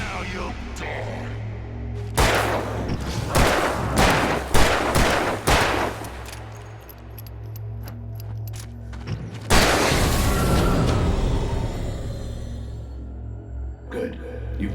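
Gunfire in the Alan Wake Remastered video game: several sharp, loud shots in quick succession near the start, then a heavier burst later, over a low droning game soundtrack.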